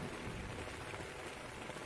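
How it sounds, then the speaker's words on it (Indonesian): Rain falls on a tent on Gunung Prau, a mountain in Java, as a steady, dense patter with no pauses. It sounds fairly soft and close, and no voices are heard. "hujan pun turun."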